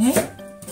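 A single knife cut through carrot on a cutting board, one short crisp chop followed by a quiet pause.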